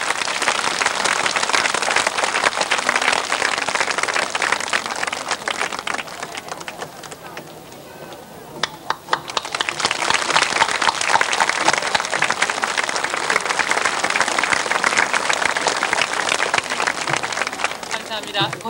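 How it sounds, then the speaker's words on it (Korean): An audience applauds loudly and continuously at an outdoor memorial performance in Hwacheon, Gangwon Province, welcoming a singer onto the stage; the clapping dips briefly midway, then swells again and carries on to the end. "여러분 박수로 맞이해 주시기 바랍니다"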